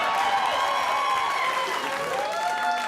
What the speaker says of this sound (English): Come on, clap for that, amen